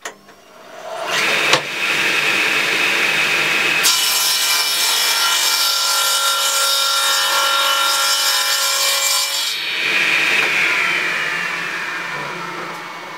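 Homemade gripper block rubbing on rough timber, a loud continuous abrasive scraping that starts after a couple of short strokes and runs for several seconds before fading out.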